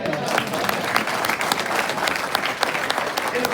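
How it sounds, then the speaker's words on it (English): A crowd at a political gathering claps loudly and steadily. The dense applause is close and fills the whole short stretch, with a few sharper individual claps standing out. "I think that's worthy of a round of applause."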